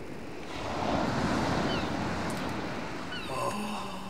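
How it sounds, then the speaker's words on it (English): Ocean surf in the video game Steambot Chronicles rolls in as a broad, steady wash of noise that swells and holds, with a few faint tonal game sounds layered over the top. "the waves, the sound, it's drowning everything out."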